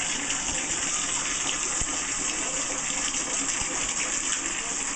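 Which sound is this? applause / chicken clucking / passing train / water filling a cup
water filling a cup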